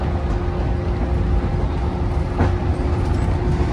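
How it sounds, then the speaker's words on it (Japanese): A steady, rumbling ride aboard a JNR 115 series electric train on the Sanyo Main Line, with a constant low drone and the thin sustained whine of MT54 traction motors running through it, loud and close throughout. "115系といえばこの MT54 のモーター音ですよね。"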